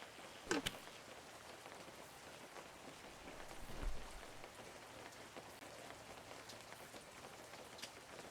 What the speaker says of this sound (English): Gotta go through the rains.